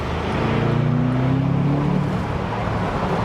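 A Bentley Continental GTC convertible with its top open accelerating onto a motorway: a loud, steady engine drone rises in pitch as the car picks up speed, under constant wind and road rush.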